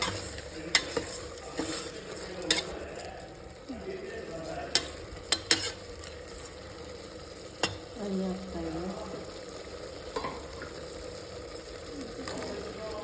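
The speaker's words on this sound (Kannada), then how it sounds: "ಇದು ಫ್ರೈ ಆಗ್ತಾಯಿದೆ" Ingredients fry in a pan for spicy mushroom biryani, a low sizzle under repeated sharp clinks and scrapes of a stirring spoon, with faint background voices now and then.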